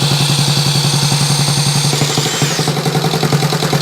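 A vintage motorcycle engine idles close by after a first start on choke with no throttle cable fitted, running loud with a fast, even chuffing beat that shifts slightly partway through.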